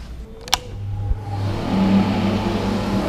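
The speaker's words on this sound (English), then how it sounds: "I'll turn the extractor fan on just for a wee bit." Extractor fan in a workshop spinning up, a steady mechanical whir that builds and holds loud after a couple of sharp clicks, with no talking.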